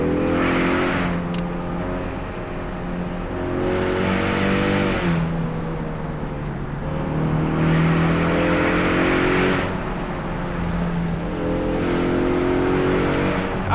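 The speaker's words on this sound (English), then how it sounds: "I'm just gonna stop talking for a second so you can listen to the engine in the Canyon." A 2024 Ford Mustang engine pulls hard through a canyon, rising and falling in repeated revving surges with gear changes, loud and close from inside the car, no talking.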